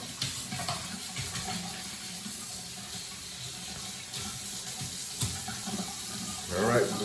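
Water from a sink tap pours in a steady stream close by while a razor is rinsed under it. A few faint clinks are heard, and a splashy burst comes near the end.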